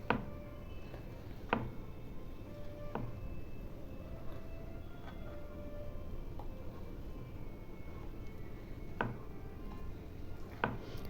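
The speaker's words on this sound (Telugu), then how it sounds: "పన్నీర్ చిన్న చిన్న క్యూబ్స్ లాగా కట్ చేసుకోవాలన్నమాట నీట్గా" A knife cuts paneer into small neat cubes on a board, with sparse sharp taps spaced a second or more apart over a low room hum. No talking.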